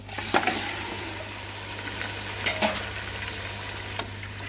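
Mutton pieces sizzle in a pan of fried ginger and garlic for mutton nihari, a steady near crackle with a few louder bursts and clatters as the meat goes in and is stirred.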